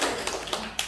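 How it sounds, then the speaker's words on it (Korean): Hands clapping three times in a steady rhythm, close and fairly sharp, in a quiet indoor room during an art therapy class. "자, 박수."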